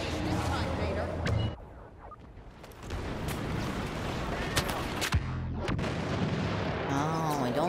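Gunfire in the Star Wars Battlefront video game, Heroes vs Villains mode: repeated sharp blasts and bursts of shots over a dense, continuous game soundscape.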